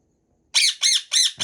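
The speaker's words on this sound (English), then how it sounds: "We still got a loud bird." A pet bird named Pidgey lets out four loud, piercing squawks in quick succession, close up after a brief silence, while gear is packed for a race track day.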